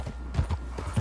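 Horse hooves clip-clop in Red Dead Redemption 2, a few close, evenly spaced thuds over a low steady background hum.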